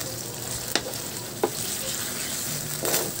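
Tomato sauce sizzles quietly and steadily in a pan, with a few soft scraping strokes of stirring at intervals and no talking.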